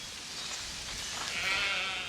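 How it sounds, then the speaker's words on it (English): Sheep bleat in a lambing pen where ewes are kept after giving birth, a fairly faint, muffled call against a steady background hiss. "we really like having these sheep in this lambing pen for just a little bit after they have babies"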